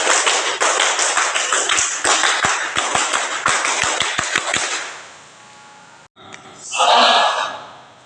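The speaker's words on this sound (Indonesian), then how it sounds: "2 kali tepuk pramuka." An audience at a Pramuka scout send-off ceremony claps the scout clap in sharp, rhythmic bursts that fade out, followed by a short cheer after a pause.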